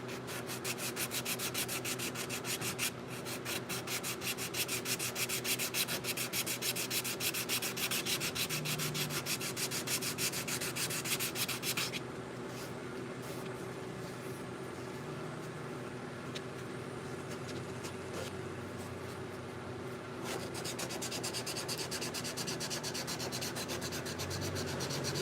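Continuous sanding on a steel knife blade in a workshop, working grind lines out of one side; a steady abrasive rubbing that runs the full length, briefly dipping in loudness midway before resuming.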